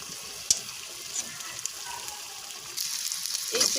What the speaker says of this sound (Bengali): আর এই চুলা ডিম ভেজে নিচ্ছি আমি এভাবে টুকরো টুকরো করে